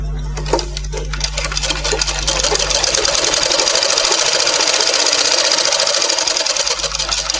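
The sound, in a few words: sewing machine stitching a blouse fitting seam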